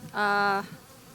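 A single honeybee buzzes close by during a hive inspection, one short, steady, loud drone lasting under half a second before fading into quiet background.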